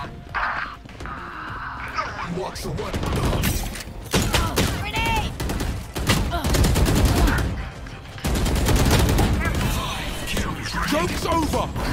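Rapid bursts of automatic gunfire and single shots from an online shooter game ring out close and loud, overlapping in dense volleys with brief gaps, while a player's voice talks over the action.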